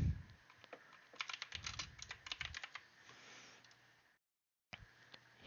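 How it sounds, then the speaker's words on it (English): Rapid, uneven clicking of computer keys being typed on, close and fairly quiet, stopping briefly and then resuming, with no talk. "Just type in Windows update."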